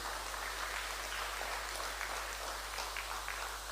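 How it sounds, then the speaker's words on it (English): Steady round of applause from a conference audience of appeal court justices, a dense, even wash of clapping that holds at the same level throughout without any voices. "May we please give my Lord another round of applause"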